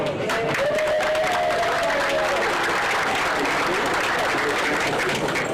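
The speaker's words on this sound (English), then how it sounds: "let's give her like a big round of applause" Audience at a groundbreaking ceremony in Louisville, Kentucky, breaks into a full, steady round of applause for the development manager, dense clapping from many hands filling the space with a few cheers mixed in.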